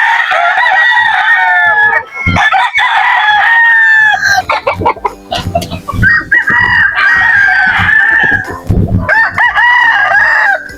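Roosters crowing loudly and repeatedly nearby on a hot early morning, long drawn-out calls overlapping with hens clucking and scattered farmyard noise in between.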